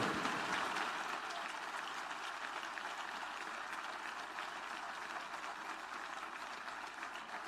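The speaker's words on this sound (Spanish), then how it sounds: "Fuerte el aplauso, Marisol Carratú." Audience clapping at a football club's season presentation, a sustained, even round of applause from a crowd, fairly distant and uniform throughout with no talk over it.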